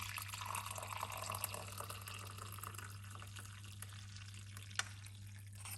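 Cucumber cinnamon tea pours in a faint, steady liquid trickle, quiet and close, with a small clink near the end against a low background hum.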